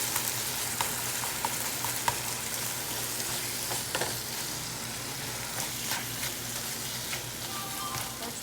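Taco meat sizzling and frying with taco seasoning in a pan, a steady close crackle with occasional stirring scrapes and pops, no voices.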